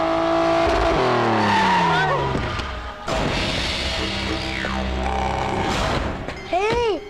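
A car races along with its engine roaring and tires squealing through several sharp skids and swerves in a Telugu film action scene, loud and close, ending with a final burst of screeching tires.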